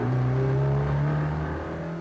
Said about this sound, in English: The car was driven very fast.